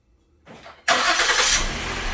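A 2016 Ford Explorer fires up through a remote starter. A faint click and whir come first, then the engine catches abruptly and settles into a loud, steady idle.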